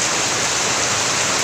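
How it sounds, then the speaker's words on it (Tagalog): Heavy rain pours down in Balsa by a small shop on an afternoon, a dense, unbroken hiss of downpour that is loud and steady throughout. "Ang lakas ng ulan dito sa amin sa Balsa."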